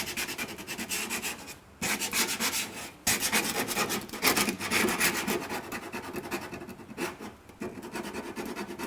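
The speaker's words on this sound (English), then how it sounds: "I'm digging in there into those low spots with the edge of this 36 grit" Coarse 36-grit abrasive rubbing and scraping hard into low spots on a car body panel, a loud continuous gritty rasp with brief pauses between strokes, close up and alone.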